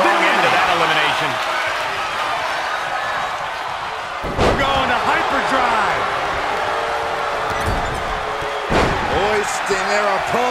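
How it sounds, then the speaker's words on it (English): A large arena crowd in the WWE 2K24 wrestling game roars steadily and loudly throughout, with two sharp slam impacts cutting through the cheering and commentary voices faintly underneath. "Listen to this crowd."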